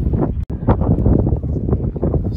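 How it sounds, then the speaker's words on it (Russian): Strong steppe wind buffets the microphone outdoors near Elista, loud irregular rumbling gusts in continuous low-pitched bursts with a brief dropout early on. "здесь ветер, здесь степь и очень-очень сильно ветер"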